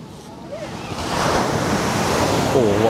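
Strong ocean surf roaring steadily at Teluk Senangin beach, loud and close, with wind noise buffeting the microphone and a couple of faint bird calls.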